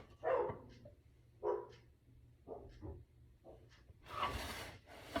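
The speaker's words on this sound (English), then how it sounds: "My dog's barking outside." A dog barks outside, a series of about six muffled, medium-distance barks spaced irregularly, followed by a longer rougher burst, heard faintly in a quiet kitchen.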